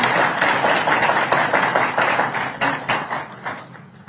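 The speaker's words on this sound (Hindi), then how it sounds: "तालियां रुकनी नहीं चाहिए।" Audience applause at a road safety awareness event as guests are welcomed onto the stage, steady dense clapping that continues for several seconds before gradually thinning and tapering off.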